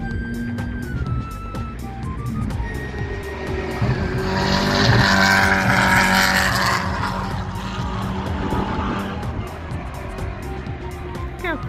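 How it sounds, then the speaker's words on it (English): An Audi TT race car drives hard at the Pikes Peak International Hill Climb, engine revving and rising in pitch with tire noise as it passes, steady and fairly close, with people talking over it. "That's an awesome Audi TT."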